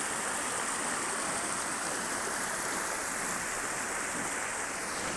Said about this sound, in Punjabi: ਉਸ ਚਸ਼ਮੇ ਦੇ ਵਿੱਚੋਂ ਪਾਣੀ ਨਿਕਲ ਕੇ ਦੇਖੋ ਕਿੰਨੀ ਤੇਜ਼ੀ ਨਾਲ ਅੱਗੇ ਜਾ ਰਿਹਾ